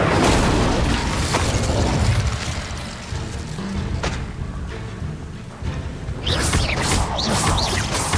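An Incendio fire spell is cast in Hogwarts Legacy on Xbox Series X, producing a loud, booming fiery burst with rumbling and crackling bursts that fade, then a fresh flare of sharp crackles near the end.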